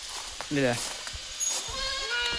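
Young goats bleat twice in short, wavering cries close by, with faint clatter and rustling between them.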